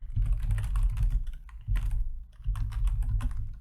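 Fingers type code on a computer keyboard in rapid, dense bursts of clattering keystrokes, close up, with two short pauses between runs and no voices.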